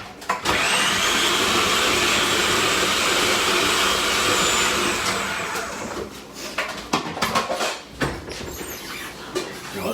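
A blender whizzes BBQ rub into a powder with a loud steady whirring motor for several seconds, then it winds down into clattering and knocking of the container and lid.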